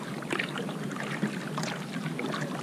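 Kayak paddle blades dip and pull through the water in repeated high-angle strokes, giving soft splashes and trickling drips over a steady watery background, close and fairly quiet, with no talking.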